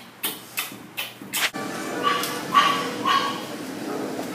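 A puppy gives a few short, sharp yips close up, followed by softer whimpering and snuffling noises as it licks and nuzzles during a kissing challenge.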